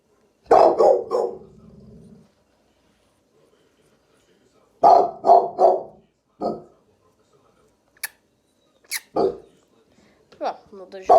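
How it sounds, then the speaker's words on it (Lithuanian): A dog barks indoors during crankbait painting, in loud, repeated bursts of barks separated by quiet gaps, with a few shorter yelps and whimpering sounds later on. "Atleiskit dėl šunio."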